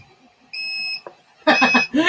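An Arduino buzzer gives a single clear electronic beep, then a short click and a burst of rapid buzzing tones near the end.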